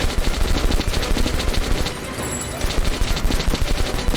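Sustained machine gun fire in the first-person shooter Metro: Last Light Redux, loud and close rapid bursts with a brief lull in the middle before firing resumes.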